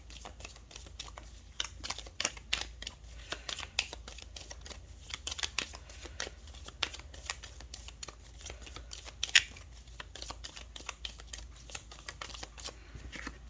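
Tarot cards are shuffled over and over in a rapid, irregular patter of soft slaps and riffles, close and fairly quiet, with no voice.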